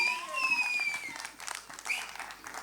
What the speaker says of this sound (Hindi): सनी सर के लिए एक बार जोरदार तालियां